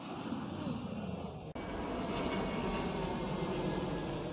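Airplane flying over the area near Frankfurt airport, a steady broadband engine roar that holds at a constant level throughout, with one sharp brief dropout partway through.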